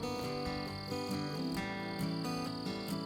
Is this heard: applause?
no